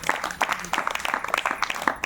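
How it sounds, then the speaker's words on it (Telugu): A church congregation in a prayer hall claps, a scattered burst of fairly close hand claps with uneven rhythm lasting a couple of seconds. "గట్టిగా చప్పట్లు కొట్టు."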